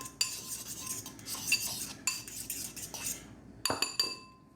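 Chives being mixed into a cheese and bacon potato skin filling in a bowl, with close clinking and scraping of a spoon against the dish in bursts, then a sharp clatter near the end, no voices.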